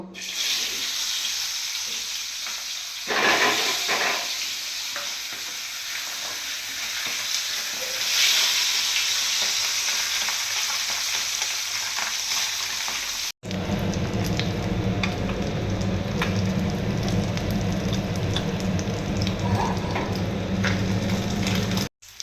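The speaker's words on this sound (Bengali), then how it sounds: "দেখো আমার কিন্তু ফ্রাই প্যানে তেল দিয়ে দিয়েছি তেলও গরম হয়ে গেছে এবার এক এক আমি মাছটা দিয়ে দেবো" Pabda fish frying in hot oil in a home frying pan gives a steady, loud sizzle throughout, with a brief cut partway before the crackling resumes even more densely.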